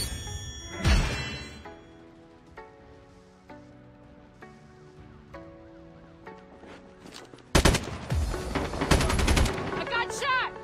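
Gunfire in the mobile shooter Call of Duty Mobile, with an HG40 loadout: a loud close shot near the start, then a quieter stretch of game effects before dense, rapid automatic bursts crowd the final few seconds.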